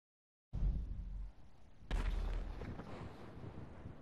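Explosions in the video game GTA 5: after a moment of silence a deep boom hits, then a second sharper blast follows about a second and a half later, with rumbling debris trailing off.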